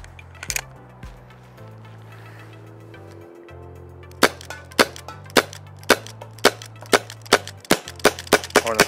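GI Menace cal.50 toy blaster firing at a metal pan about ten metres away, a run of sharp, evenly spaced cracks in the second half over a low steady hum, with scattered quieter clicks earlier.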